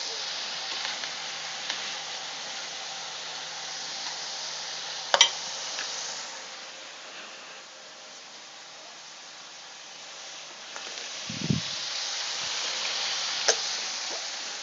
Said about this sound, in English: We throwing in the garlic right now, baby.